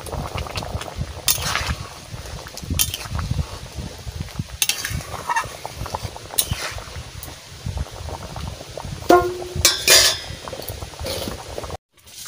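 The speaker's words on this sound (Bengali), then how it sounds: "তরকারি ফুটে গেছে" Curry with fish bubbling in a pot over a fire, steady close boiling and gurgling with occasional utensil clinks and scrapes, no voices.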